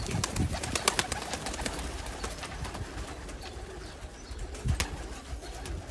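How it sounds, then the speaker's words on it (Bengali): A male Teddy pigeon from Oman cooing up close amid other pigeons, low throaty coos repeating over a busy background of wing flutters and scattered chirps. "এই হচ্ছে একটা মেল বার্ড, ওই কবুতরের নাসল।"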